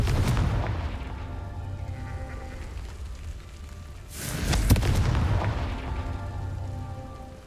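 Confringo blasting-spell explosions in the Hogwarts Legacy game: two loud booming blasts with rumbling tails, one at the start and a sharper one midway, over a steady crackling background.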